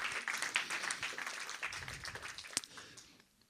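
Applause from a church congregation at an apostolic centre, a dense patter of many hands that swells and then thins out toward the end, moderately distant and fairly quiet.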